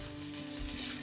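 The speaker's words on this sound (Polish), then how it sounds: "Czosnek leciutko podsmażam." Garlic frying gently in a pan gives a soft, steady sizzle with light crackles, close and fairly quiet, over a faint background hum.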